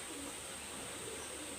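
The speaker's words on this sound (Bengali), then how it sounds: "এই লাল চোখের কবুতর" A red-eyed pigeon, a faint, soft coo under a steady hiss of background noise, one short call with no voices.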